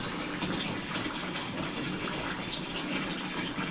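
Water runs steadily from a turned-on tap during a household leak inspection, a continuous broadband rush at moderate level with no talk.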